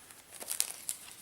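Paper printed with Tomb Raider logos crinkles as it is unwrapped, a few short rustling bursts close to the microphone.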